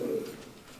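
A fancy pigeon at a pigeon farm in Natore gives a single short, low coo close by, which fades into quiet.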